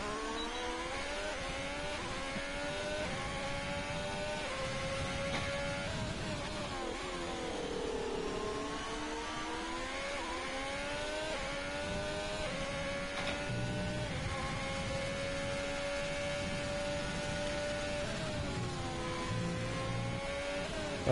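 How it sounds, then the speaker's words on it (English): Racing car engine during an onboard lap of the Hungary circuit in an F1 video game, a steady loud whine with rising and falling pitch through gear changes and corners, continuous for the whole stretch with no talk. "I'll go on board with Ruan. Let's see how his lap unfolds"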